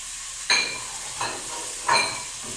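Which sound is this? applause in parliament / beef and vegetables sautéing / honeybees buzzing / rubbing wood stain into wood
beef and vegetables sautéing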